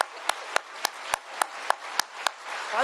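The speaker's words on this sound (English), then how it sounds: "Let's give a round of applause for a great leader who's helping the state of Washington." Applause from an audience at a bill signing ceremony in Washington state: a round of scattered clapping, with a few sharp, evenly spaced claps standing out above a soft wash of hands, close by and fairly quiet.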